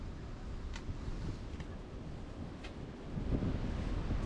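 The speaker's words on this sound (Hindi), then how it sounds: "बहुत तेज हवा चल रही है इस टाइम" Strong wind gusts at an outdoor zoo in Luton, England, a steady low roar of buffeting on the microphone that grows stronger near the end, with a few faint ticks.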